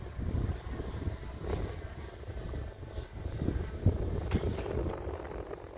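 Two small drones hover and fly outdoors, a steady propeller drone running continuously under gusty wind buffeting, loud and near throughout.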